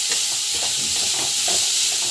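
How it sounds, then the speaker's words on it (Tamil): Carrots stir-fried in a pan, a bright constant hiss of frying with soft irregular scraping and stirring knocks close by, steady and fairly loud across the short stretch, no voices. "கேரட் வந்து போட்டுக்கிட்டு நல்லா வந்து ஃப்ரை பண்ணிக்கோங்க."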